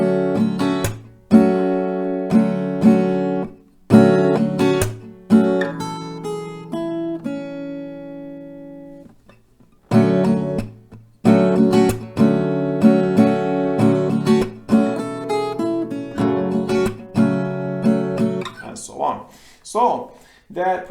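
Acoustic guitar picks a slow melody in repeated phrases, notes ringing clearly with brief pauses between rounds, played alone without any talking.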